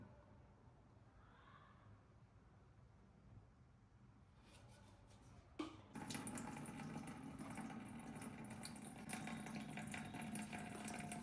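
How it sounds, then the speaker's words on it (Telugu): Saraswati river water, kept for puja rituals, is poured out at home; near-silence with faint trickles gives way midway to a sudden, steady, close splashing pour that continues to the end. "ముందు సరస్వతి రివర్ వాటర్ పోస్తున్నాను"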